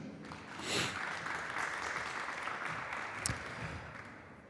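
Applause from an audience at a formal Brazilian conference on the judiciary and regulatory agencies, a steady broadband patter of clapping that swells near the start and holds at moderate level throughout, with no voices over it.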